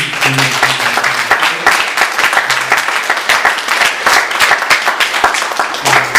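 Congregation at a Korean church Sunday worship service applauds students and parents, a steady dense clatter of many hands with a few louder nearby claps and a faint hum underneath.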